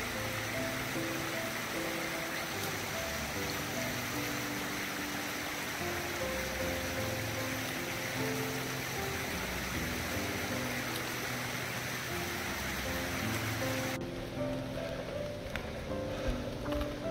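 Rain falls steadily on a wet, leech-infested mountain trail in Taiwan's high peaks, a constant close hiss of drops on foliage and ground that continues for the whole stretch, with no voices.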